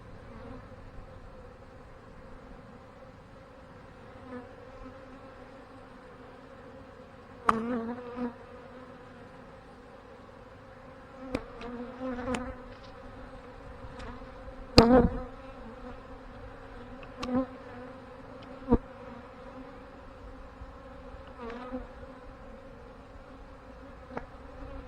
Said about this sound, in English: So we got a good bit of bees in this hive.